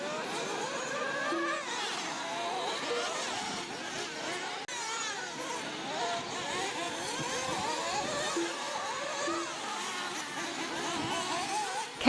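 Off-road race cars at Loosenuts Raceway in an MNRC series round run through rumble strips, engines droning steadily throughout with rough, continuous mechanical texture and no pauses.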